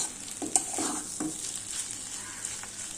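Beef brain and potatoes fry in oil in a pan, a steady close sizzle with a few scraping stirs of the spatula early on and no talking.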